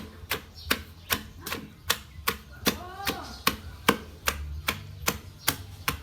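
A wooden mortar and pestle pounding a Thai long bean salad with fermented fish sauce, giving regular sharp thuds about two per second, fairly close, with brief speech in between.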